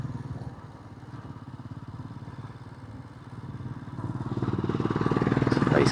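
A Royal Enfield Himalayan 411 motorcycle ridden on an October evening, its single-cylinder engine thumping steadily with a rapid pulsing beat that rises and grows louder near the end as it accelerates.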